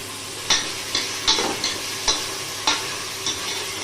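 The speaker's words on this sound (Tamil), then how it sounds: "இது நல்லா வெங்காயம் பொன்னிறமாக நல்லா வதங்கணும்" Chopped onions sauté in a hot pan with ginger-garlic paste for prawn biryani, sizzling with a spatula scraping and stirring in regular strokes about every half second.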